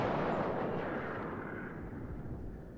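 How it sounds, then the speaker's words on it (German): Heavy naval guns firing armour-piercing shells in World of Warships, heard as a loud, dense rumbling boom that fills the clip and slowly decays, with no talk over it. "Mittlerweile schießen wir AP-Munition"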